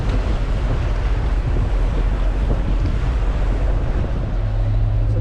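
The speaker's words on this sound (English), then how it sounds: "So we are jumping on the waves." A sailing boat pounds over breaking ocean waves near Cardoso island off Brazil, with a constant loud roar of surf and heavy wind buffeting the microphone for the whole stretch.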